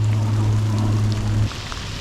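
Rain falls steadily during bank fishing for bass on a late summer day, a broad continuous patter close to the microphone, with a low steady hum underneath for the first half that then drops away.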